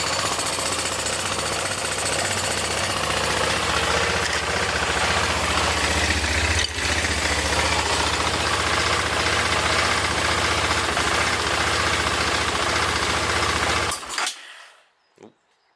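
A BMW F650 GS motorcycle engine idles loud and close with a steady, rough knocking rumble for about fourteen seconds, then cuts out abruptly and falls silent.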